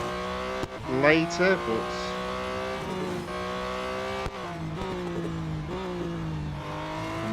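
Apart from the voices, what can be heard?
race car driving, from the video game Real Racing 3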